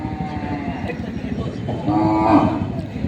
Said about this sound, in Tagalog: Ito mga kalabaw dito.